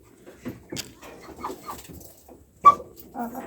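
Chickens with a rooster in a coop at a country dacha, scattered clucks and short calls in irregular bursts, one sharper squawk standing out, moderately close with no talking.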